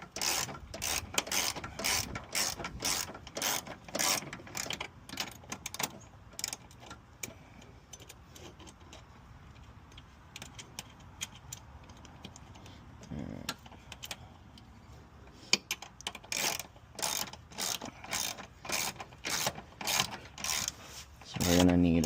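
A ratchet clicks in quick repeated bursts while tightening bolts on an Infiniti G35 master cylinder brace, the runs of pawl clicks separated by pauses and metallic handling, close, with occasional talk.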